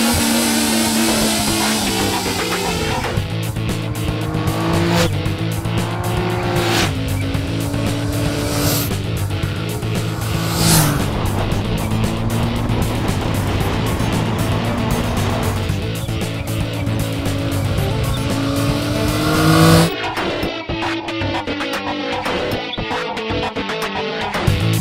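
A 2016 Triumph Speed Triple motorcycle ridden on mountain roads, its engine note loud and close throughout, rising and falling through repeated gear changes with wind rush, no talking.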